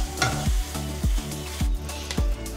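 Apples with a spoonful of rum are stirred in a frying pan, a soft sizzle under rhythmic scraping strokes of a utensil repeating roughly every half second.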